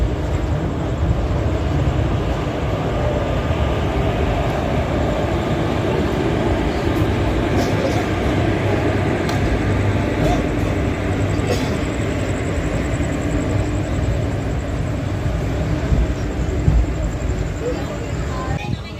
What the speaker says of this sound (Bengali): বিফোর টাইমে এখানে ট্রেন ইন করেছে।